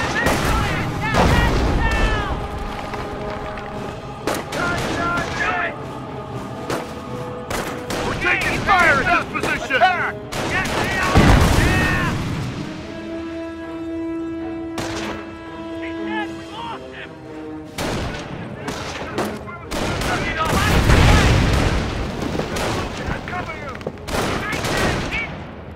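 Repeated bursts of small-arms and machine-gun fire in a Company of Heroes Normandy invasion battle, with sharp cracks and heavier booms scattered across the scene while voices shout orders over the fighting.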